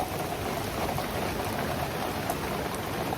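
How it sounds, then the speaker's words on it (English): Steady, dense rain pouring down hard, a continuous hiss with scattered drops drumming on a surface. "It's raining cats and dogs."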